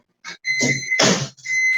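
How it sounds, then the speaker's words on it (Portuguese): A microwave oven beeps in three close electronic tones while ganache is being made in a kitchen. The beeps come with some clatter and rustle. "Eu sou ansiosa com micro-ondas, eu fico na porta ali esperando ele apitar."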